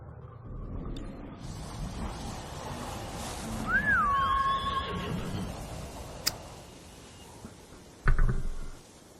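Horse in the video game Ghost of Tsushima letting out a single clear whinny in the middle, over low outdoor ambience, followed later by a few hoof clops and a short thump.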